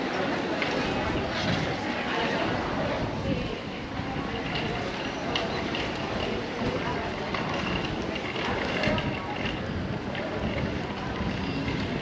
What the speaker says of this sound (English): Very windy as well.